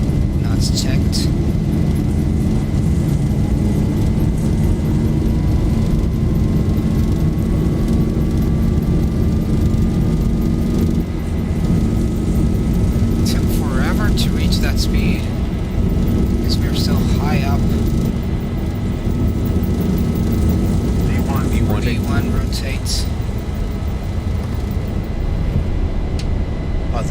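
Engines of a Boeing 737-800 build to takeoff power on the runway roll in a flight simulator, a loud steady roar with a rising whine throughout, while someone talks over it.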